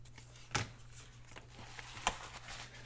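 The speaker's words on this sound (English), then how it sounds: "Let me trim that right there a little bit." Scissors trim a paper envelope being made into a tall corner tuck, giving two quick, sharp snips spaced well apart against a quiet room with a low steady hum.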